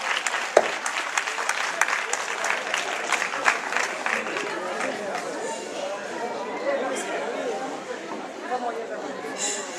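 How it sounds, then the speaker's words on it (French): Warm round of applause from a gathered club crowd for a newly named sheriff, brisk clapping that swells early then thins out, mixed with lively chatter and voices in the room. "Vous pouvez l'applaudir."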